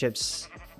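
A sheep bleats in the Minecraft video game, a single short synthetic bleat close up and clear, with speech briefly around it.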